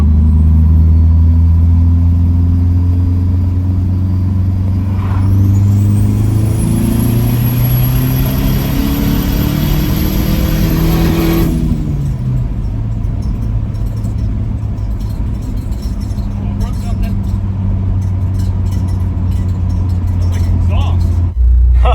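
A Dodge Dakota pickup with a swapped SRT4 turbo engine pulls hard in third gear, its loud engine note and droning harmonics climbing steadily before backing off, a high turbo whine rising above it, then settling into a low rumble.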